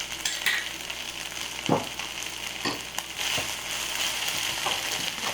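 Kimchi fried rice frying in a pan with butter, a steady close sizzle with occasional scraping stir strokes and light clatters throughout, no voices.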